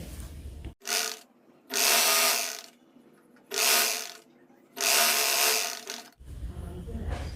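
A sewing machine stitching a sleeve, running in four short loud bursts with quiet pauses between them, the motor whirring and clattering close up.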